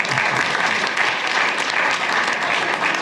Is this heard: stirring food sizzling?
no